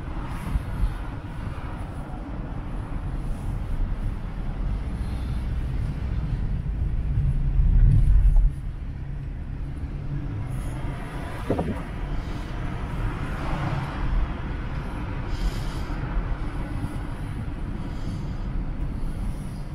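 Interior cabin noise from a moving car, a continuous low road rumble with a short louder swell partway through and a faint brief click, no talking.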